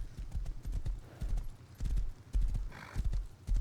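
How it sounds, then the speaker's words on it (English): Horse hooves clip-clop in a steady, close rhythm in the video game Rust, with a whinny partway through, and no talk over it. "Did someone leave this horse here?"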